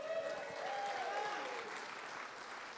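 A small audience applauds after a product presentation, a short burst of moderate clapping heard from a little distance.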